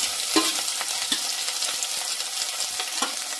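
Finely sliced ginger, garlic and onion fry in oil with reddened cumin for a kinema dish, a bright continuous sizzle broken by scattered spoon stirs and clinks, close and fairly loud, no talking.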